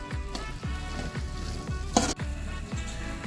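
Grated lauki (bottle gourd) halwa frying in oil in a pan, a loud steady sizzle close up with rhythmic scraping strokes of a spoon stirring every half second or so, one sharper clatter midway.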